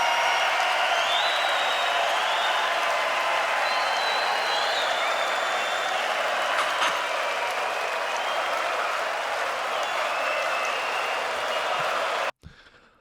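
Concert crowd at a live show applauding, a loud, dense and continuous wash of clapping and cheering that holds steady before cutting off abruptly near the end.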